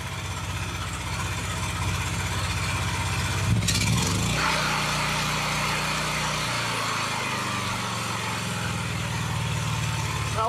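An old Honda EB 6500 generator, recently repaired after sitting for years, runs steadily close by. Partway through the throttle drops and the engine hum settles lower into a smooth idle.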